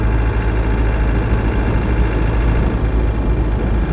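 A Land Rover 90 with a 200TDi diesel engine runs steadily at idle, a loud, continuous low rumble with an even throb and no voices over it.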